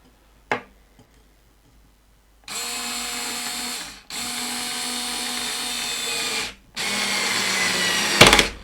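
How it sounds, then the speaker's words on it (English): A Mac Allister cordless screwdriver drives a screw into wood with no pre-drilled hole, whirring in three sustained bursts with short pauses and a sharp click at the start, close and alone. "So if we take the screwdriver now and we'll set it to about 5."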